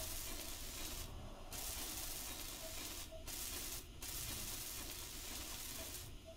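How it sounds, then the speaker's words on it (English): Welding parts together in the video game Space Engineers, a steady, rough hissing spray that holds continuously with a few brief breaks, soft and even throughout with no voices. "It looks like I'm going to weld a whole lot of this up."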